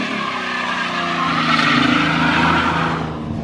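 A 2008 Cadillac STS doing a burnout: a loud, sustained engine roar with tire squeal that holds steady for several seconds before easing off.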